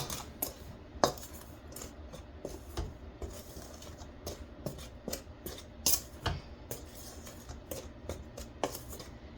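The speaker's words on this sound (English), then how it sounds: "we're just going to kind of give that a little stir to incorporate it all" Ingredients for mock sourdough bread are stirred in a bowl, producing irregular light clinks and scrapes of a utensil against the bowl, quiet and close, with no voices.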